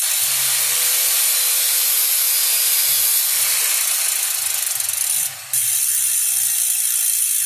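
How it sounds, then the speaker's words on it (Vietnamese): Rapid, loud continuous ratcheting of a spinning bicycle wheel's freewheel hub, a dense clicking buzz close up that barely changes for several seconds, with a brief dip near the end and no voices. "Đó là cối lổ, tức là vành nó quay nó sẽ kêu to, cối nó kêu rất to."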